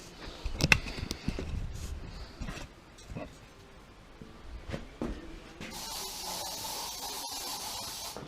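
An aerosol can sprays in bursts of hiss inside a car to kill spiders, with one longer, steady spray near the end, mixed with clunks and handling noise.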